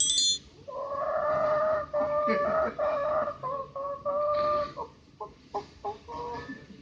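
A voice mimics a hen's cackling clucks, starting with drawn-out tonal calls and breaking into short, choppy bursts toward the end, alone and close.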